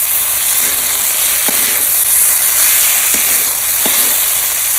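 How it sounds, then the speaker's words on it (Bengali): Cauliflower sautéing in a pan with sugar and raisins, giving a loud, constant sizzle and hiss with a few faint scraping stirs of a spoon, close up and without talk. "এবার ফুলকপিটা একটু কষিয়ে নেব এবার অল্প একটু চিনি দিয়ে দিচ্ছি এবার কিশমিশটা দিয়ে দিচ্ছি"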